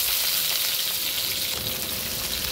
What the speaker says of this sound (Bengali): সেই আলুটা একটু লবণ আর হলুদ দিয়ে ভাজা ভাজা করে নেব